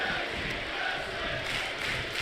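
Crowd cheering fills a wrestling video game arena during a women's Joshi tag team match, a steady, dense roar of noise with no break.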